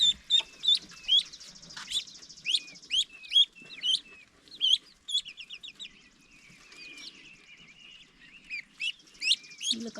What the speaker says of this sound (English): This is my runner duck I hatched.